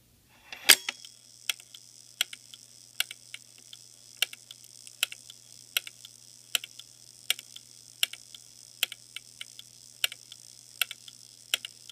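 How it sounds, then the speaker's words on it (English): A Simplex 4274-2 coded fire alarm pull station runs its code, its relays snapping out sharp, evenly spaced mechanical clicks in a steady ticking rhythm over a faint low hum, close up, with no voices. "So as you can hear, the unit is currently running its code."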